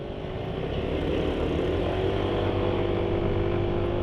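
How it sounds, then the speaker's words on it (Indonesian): A smooth, steady motorcycle engine hum at low revs, even and continuous with a soft droning tone and no revving. "suara mesin kalau RPM rendah halus"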